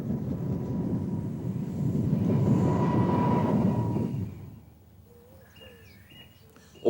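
An Irish push-pull passenger train with BR Mark III-pattern coaches rumbles past nearby, its steady roar swelling then dropping away, leaving quiet with a few birds chirping.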